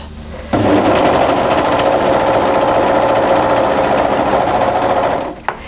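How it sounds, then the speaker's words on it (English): An overlocker sews the side seam of a winter tee dress, starting abruptly and running as a loud, steady, fast mechanical whir for about five seconds before stopping with a small clunk. "Now we sew this with the overlocker"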